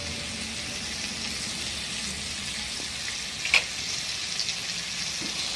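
Chili paste and turmeric spice mix frying in a pan, a steady close hiss of sizzling oil with a brief clink of a utensil partway through, no voices.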